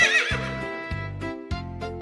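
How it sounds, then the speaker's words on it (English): A horse neighs loudly and close, a single whinny with several pulsing bursts over about two seconds, with no talk. "It's a horse."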